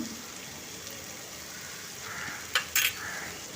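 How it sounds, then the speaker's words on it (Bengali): Garlic and green chili paste frying in oil in a pan, a steady soft sizzle with a couple of brief louder scraping clatters from stirring near the end. "দিয়ে তেলের সঙ্গে ভালো করে মিশিয়ে কিছুক্ষণ ভেজে নেব কাঁচা গন্ধ চলে যাওয়া অবধি"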